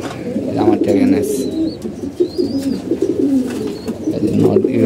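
Pigeons coo close by in low, rolling, repeated calls, loud and continuous through the short stretch, with a few higher chirps above them.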